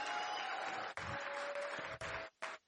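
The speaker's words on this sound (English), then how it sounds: "give a round of applause to Dr. Eric." Audience applause for a guest, Dr. Eric Naputi, being welcomed at a talk, steady clapping from a room of people lasting a couple of seconds with brief dips and a final short burst.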